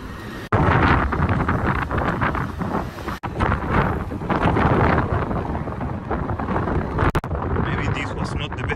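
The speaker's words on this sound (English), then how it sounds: "It's really windy." Gusty wind on a bridge in the Netherlands roars and buffets the microphone almost continuously, with a few abrupt dropouts, while a person speaks underneath.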